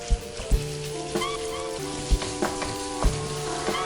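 Pork fries in a hot pan for a Thai spicy breakfast, a bright, continuous sizzle punctuated by several sharp clanks of a utensil against the pan, with tonal music playing faintly underneath.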